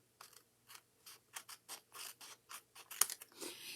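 Paper card being trimmed for a Paper Pumpkin craft project, a series of about a dozen short, crisp cutting snips in an uneven rhythm, quiet and close with silence between strokes.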